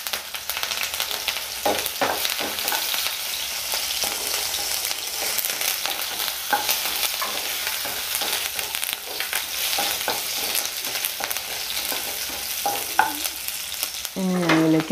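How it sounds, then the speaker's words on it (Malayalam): Curry leaves, ginger and green chilies frying in oil for egg curry sizzle steadily with frequent crackles and spatula stirring strokes, plus a brief clatter near the end. "ഇതിൻ്റെ കൂടെ തന്നെ 1-2 തണ്ട് കറിവേപ്പിലയും കൂടി ഇട്ട് കൊടുക്കുന്നുണ്ട്."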